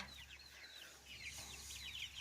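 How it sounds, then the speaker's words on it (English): Chickens on a homestead clucking softly as they are fed flowers, with a few short chirpy clucks and murmurs over a low steady background hum, fairly quiet and close. "I feed some of the big chickens some flowers"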